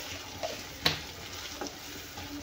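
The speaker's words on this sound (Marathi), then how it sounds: "आणि हे तेलामध्ये मसाले भाजून घेऊया" Spices roasting in hot oil in a pan for an egg curry give a soft, steady sizzle, broken by a few light clinks and stirring scrapes.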